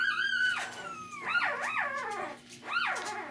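Young puppies in a whelping pen let out high, wavering whines and yips, several cries rising and falling close by with no talk.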